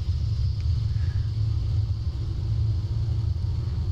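Radial engine of an F6F Hellcat in Flight Simulator X throttling up on the ground before taxi, a steady deep rumble with a faint higher whine over it, loud and close throughout.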